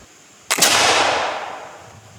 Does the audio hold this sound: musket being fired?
yes